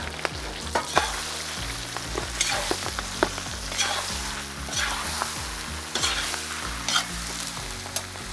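Chicken liver sizzles and crackles loudly in a hot pan, with intermittent scraping and stirring sounds throughout, no talking.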